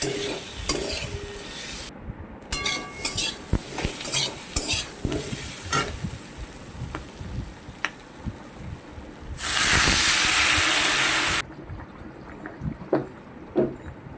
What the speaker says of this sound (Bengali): অল্প নাড়াচাড়া করে এর মধ্যে আমি দিয়ে দেবো জল